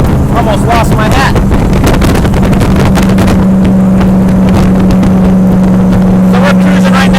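A 1964 Cobra 289 replica cruises at 70 mph around 2,800 RPM, its steady low engine drone buried under loud wind buffeting from the open cockpit, with a few voices faintly audible.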